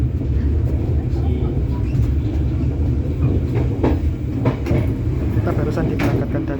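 The KA Jayabaya economy train rolls along steadily after departing Pasar Senen station, with a continuous low rumble and occasional clacks from the cabin, while people talk over it.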